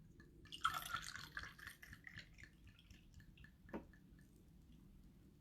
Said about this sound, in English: we're going to start with 2 ounces of Cabernet Sauvignon